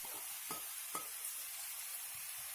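Red and green peppers, zucchini and onions stirring and lightly frying in a single pan, a steady faint sizzle under a couple of brief spatula scrapes near the start, no voices.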